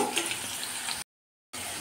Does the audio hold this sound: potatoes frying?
yes